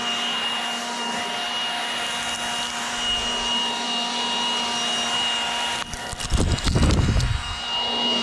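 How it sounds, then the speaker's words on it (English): A loud electric leaf blower with no gas motor roars steadily while clearing a yard and concrete. Its fan rush stays constant, then harsh wind buffeting hits the microphone near the end. "you don't hear a gas motor, you just hear the fan moving the air"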